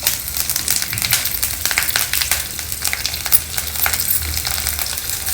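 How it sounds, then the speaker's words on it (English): Mustard seeds, urad dal, cumin seeds and green chilies sputter in hot oil in a pan, a steady close crackling sizzle with dense popping throughout. "Heat about 2 to 3 teaspoons of oil in a pan. Add some mustard seeds, urad dal, a little bit of cumin seeds, the green chilies"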